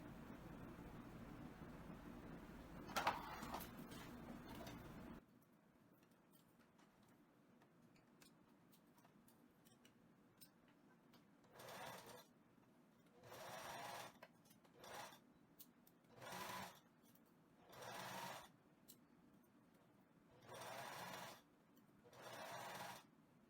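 A sewing machine stitches a blouse seam, running in about eight short, even bursts separated by quiet pauses, each a steady whirring run of moderate loudness with no talking.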